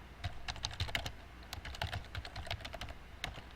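Someone types a caption on a computer keyboard, with quick irregular clicky keystrokes close up and fairly quiet, no voices.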